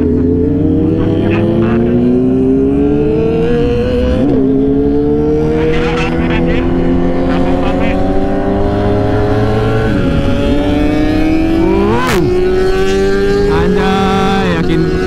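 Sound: Kawasaki ZX25R motorcycle engine revving

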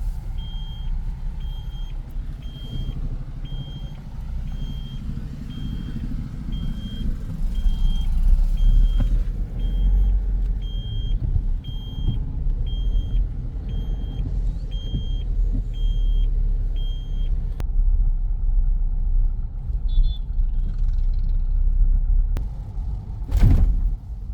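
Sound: road construction work with trucks in Pandharpur

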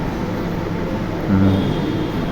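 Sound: train running, Khulna to Dhaka

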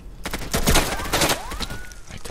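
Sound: gunfire in video game Insurgency

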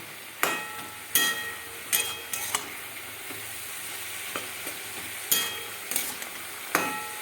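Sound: stirring kalai saag in pan

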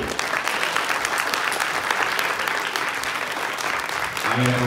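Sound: audience clapping to vote for a team

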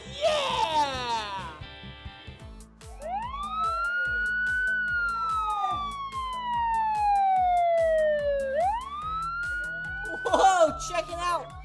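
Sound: toy police car siren at children's museum

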